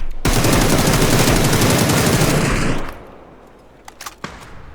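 Loud, dense automatic gunfire from the PUBG video game, with an MK-12 among the weapons, rattles continuously for about three seconds and then stops, followed by a few scattered single shots at a distance.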